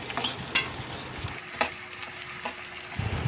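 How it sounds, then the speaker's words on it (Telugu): Green chillies and curry leaves sizzle in hot oil in a pan while being stirred for Rayalaseema uggani, with soft frying crackle and occasional scraping clicks of the spoon, close and moderately quiet. "పచ్చిమిర్చి, కొంచెం కరివేపాకు వేసుకొని కొంచెం నీట్గా తిప్పుకుంటూ కొంచెం మగ్గేదాకా అటు ఇటు"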